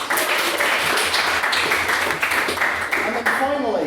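An audience at a debating society event applauds, with steady dense clapping for a few seconds.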